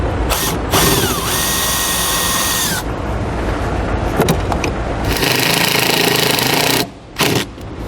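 A power drill drives a self-tapping screw to mount a trailer ground wire, with a long steady whirring burst that rises in pitch, then pauses and starts again in several loud close-up runs, ending with short final bursts.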